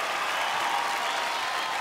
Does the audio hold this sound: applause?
yes